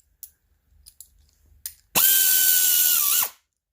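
A few faint ratchet clicks from a wrench on a Generac iX2000 inverter generator under repair, followed by a loud, steady whirring power-tool burst lasting over a second before cutting off.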